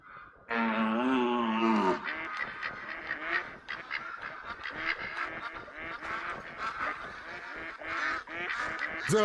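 Geese honk loudly and continuously in a hunting setting, a dense overlapping chorus of harsh calls near the listener with no talking.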